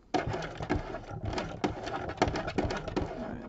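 A sewing machine runs a couching stitch in short bursts, its rapid mechanical chatter stopping and restarting several times at close range with no talking.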